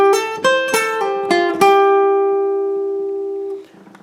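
Guitar phrase from a song, a handful of quick plucked notes in the first second and a half, then a final note left to ring and fade before stopping.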